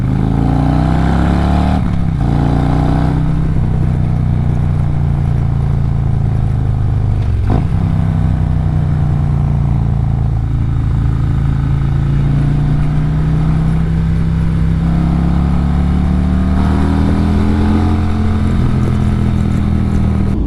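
Harley motorcycles riding on the road produce a loud, continuous deep engine rumble with shifting pitch as they throttle up, plus some clatter and wind buffeting, close throughout and without talk.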